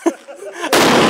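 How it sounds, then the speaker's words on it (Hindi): A firecracker goes off with a sudden loud bang, followed by a sustained dense crackling burst of explosions that continues to the end, after a brief quiet stretch with faint background sound. "पटाखा"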